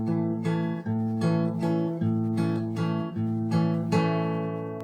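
Fingerpicked acoustic guitar chords from a song ring out close and clear, each chord plucked in a steady rhythm with notes sustaining and overlapping.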